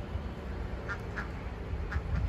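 Backyard ducks quack in short bursts, a few calls spaced apart, faint and somewhat distant over outdoor background noise near a creek.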